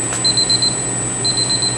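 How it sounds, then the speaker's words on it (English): Kitchen timer on an ice cream maker going off while egg nog ice cream is being made, two bursts of rapid high beeps separated by a pause over a steady machine hum. "Let the timer come off."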